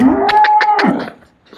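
A cow lets out a single loud, close moo lasting about a second, then fades into quiet at a farm where two cows are offered for sale.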